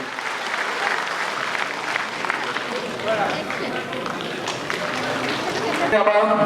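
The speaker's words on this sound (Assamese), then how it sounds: "এটি হাত চাপৰিৰে তেওঁক উৎসাহিত কৰিবলৈ অনুৰোধ জনাইছোঁ" An audience at a Swami Vivekananda birth anniversary event claps steadily for several seconds, a dense sustained applause that swells slightly toward the end.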